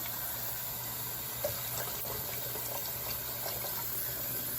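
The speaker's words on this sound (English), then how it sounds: "My sink, the water gets hot really quickly." Water runs steadily from a sink tap, a continuous even hiss of flowing water filling the sink at moderate distance with no talk over it.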